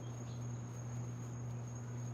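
Crickets chirp in a steady, continuous trill outdoors on a calm evening, soft and unbroken with no talk over it.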